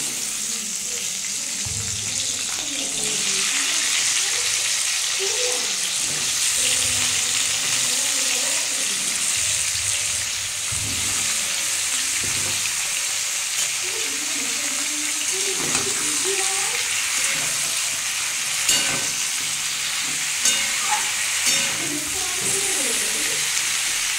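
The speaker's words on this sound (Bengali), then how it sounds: "এবার এই তেলের মধ্যে আমি চিচিঙ্গাগুলো ভেজে নেব।" Snake gourd pieces frying in hot oil sizzle continuously up close while utensils clink and stir now and then, and running water splashes in the background.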